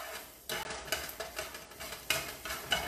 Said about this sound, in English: So stir the garlic around a little bit.